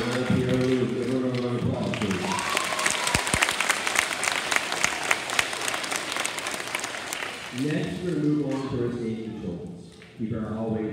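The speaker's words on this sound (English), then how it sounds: "Ariana Pierre Lewis, give her a round of applause, please." Audience applause fills a graduation ceremony for a fifth-grade class, a steady dense clapping from a crowd that runs almost the whole way through, with a voice speaking over the start and again near the end.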